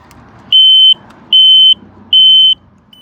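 The reverse buzzer on a Ryobi RM480e electric lawn mower sounds three evenly spaced high-pitched beeps, each lasting about half a second, loud and close, with quiet pauses between them.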